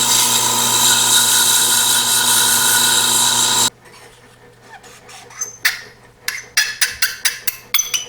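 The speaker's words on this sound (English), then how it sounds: "I'm going to just clean it up with a sandpaper disc here to get this down to the size I need it" A sandpaper disc grinds down a small guitar tuner part during a Fender Stratocaster restoration: a loud, steady spinning whir with a rough abrasive rasp runs for several seconds, then cuts off and is followed by a string of sharp, brief scraping strokes.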